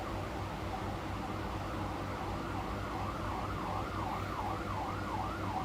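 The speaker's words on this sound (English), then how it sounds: "I'm guessing there's an ambulance rolling through outside." An ambulance siren passes outside, its wailing tone rising and falling in a steady repeating sweep, muffled and moderately distant over a low constant hum indoors.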